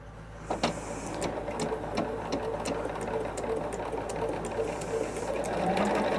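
A sewing machine stitches patchwork in a steady, continuous run, its fast mechanical chatter with repeated needle ticks staying close and even throughout, with no talk over it.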